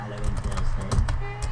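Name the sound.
typing on a computer keyboard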